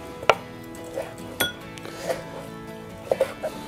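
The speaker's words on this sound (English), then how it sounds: "And I'm gonna cube it up. I'm going to do the same to our beef." Knife cubing bacon and beef on a cutting board for burgers, a few sharp separate chops and taps spaced over a few seconds, close and fairly quiet with soft clinks.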